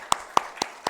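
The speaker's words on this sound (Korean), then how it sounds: "우리 큰 박수로 한번 격려합시다" A church congregation at a Wednesday prayer service claps for the youth group. Four sharp, separate claps land at an even, steady pace, close and crisp, with a quiet room between them.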